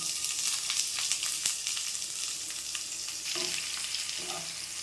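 Long-sliced onions frying in oil in a pan for carrot rice, a steady loud sizzle with occasional stirring scrapes and clinks.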